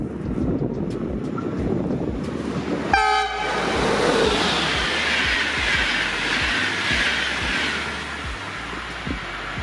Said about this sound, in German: Auch mein Intercity hier an der linken Rheinstrecke. Hat lange gedauert, aber hat gut gehupt.